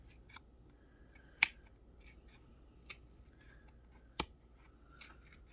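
Scissors poke holes through paper, giving a few faint, crisp snips and punctures spaced a second or more apart in a quiet room, with no one talking.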